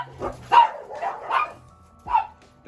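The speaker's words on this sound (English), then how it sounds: "Don't mind the dogs." Several dogs bark in short, separate bursts at moderate distance during an outdoor cookout of smoked pork belly, with about four sharp yaps spread across a few seconds.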